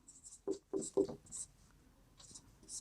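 A pen scratches out an answer by hand on paper in quick, light strokes, close by, with a few brief spoken sounds mixed in.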